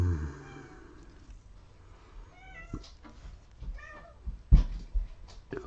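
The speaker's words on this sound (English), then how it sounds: "he's tormenting the cat" A cat meows several times in drawn-out, rising and falling cries, with some caterwauling edge, moderately close in a quiet room, scattered across a few seconds with brief bumps and handling noises between calls.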